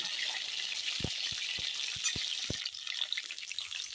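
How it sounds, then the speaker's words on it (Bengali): Pointed gourd fries in a pan with turmeric and salt, a soft steady sizzle punctuated by a quick run of light utensil taps, faint and without talking. "এখন হলুদ লবণ দিয়ে ভেজে নিই পটলগুলো সুন্দর করে"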